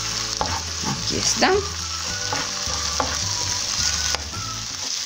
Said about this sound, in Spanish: la cucharada de ajo. Y de igual manera vamos a freír